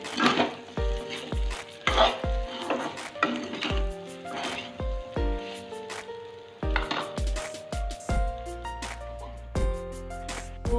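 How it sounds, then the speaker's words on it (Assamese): Pork frying with green chilies in a pan, stirred with a metal utensil: repeated ringing clanks and scrapes in an uneven rhythm over a soft sizzle, close and fairly loud. "ইয়াত মাংসখিনি ভাজি লোৱা হোৱাত মই এতিয়া আলু দিছোঁ।"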